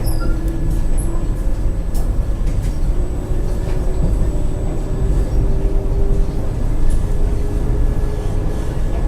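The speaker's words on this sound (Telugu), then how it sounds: "మన ట్రైన్ అయితే బయలుదేరిపోతుంది" Vande Bharat Express train departing a station platform on the Secunderabad to Tirupati route, a continuous loud rumble and whine heard from inside the coach, steady throughout with faint high tones.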